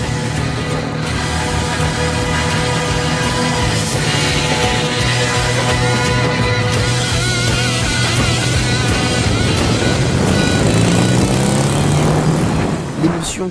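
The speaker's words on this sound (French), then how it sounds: "Tu ressens chacune des accélérations, le moteur fait un bruit magique" A BMW 65 cafe racer motorcycle engine drones steadily and close, then revs and climbs in pitch as it accelerates toward the end, with faint wind noise.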